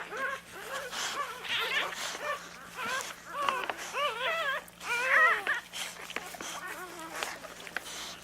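Newborn Alapaha and American Bulldog cross puppies whimper and squeal in a steady run of thin, rising and falling cries, close by, with several pups overlapping and a faint low hum beneath.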